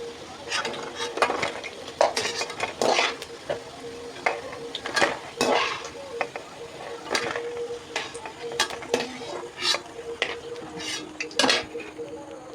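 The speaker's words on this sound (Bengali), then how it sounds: "এইরকম করে আরও একটা ভেজে নেব।" Potato pakoras frying in hot oil in a wok, a constant sizzle broken by repeated sharp metallic scrapes and clinks of a slotted spoon against the pan, loud and close with no talking.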